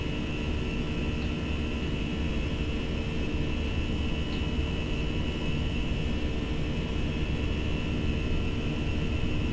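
Steady, loud roar of FSLabs A320 jet engines at takeoff thrust in the Prepar3D simulator, a constant broadband rumble with a sustained whine and no breaks.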